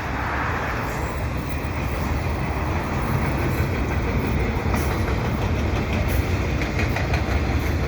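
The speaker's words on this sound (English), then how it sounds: "I'm at the Des Sources ramps looking down on a CP train headed west" Westbound CP freight train carrying double-stack containers and auto racks rolls past below the Des Sources ramps in Montreal, a loud continuous rumble with rhythmic wheel clatter and engine drone, steady throughout.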